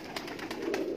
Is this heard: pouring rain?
no